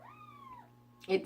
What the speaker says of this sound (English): My cat's meowing, I'm sorry.